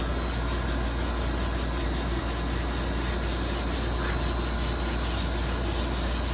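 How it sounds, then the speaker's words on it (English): Hand sanding of a carved wooden flintlock rifle stock, a continuous rough rubbing scrape with a steady even texture, close and moderately loud, without speech. "I would sand that down to clean it up."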